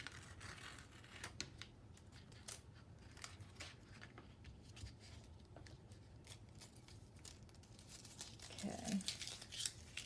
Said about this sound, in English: I'm going to take the tape off.